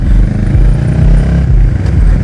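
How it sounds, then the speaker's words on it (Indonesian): Up close, a modified Kawasaki ER6N scrambler with a tuned ECU and a Two Brothers Racing exhaust rumbles loudly, its deep, throbbing exhaust note pulsing steadily with slight rev swells. "dipasangkan dengan knalpot Two Brothers Racing yang suaranya cuy"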